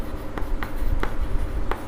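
Chalk writing on a board during a maths lesson, a series of short, crisp taps and scratches in an uneven rhythm, close and clear, with no talking.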